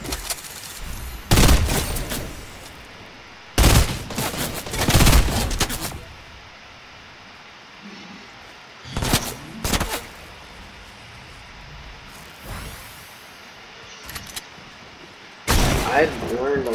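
Video game gunfire, including headshots, comes in several loud, separate bursts of rapid shots with quieter gaps between them.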